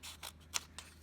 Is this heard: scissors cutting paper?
yes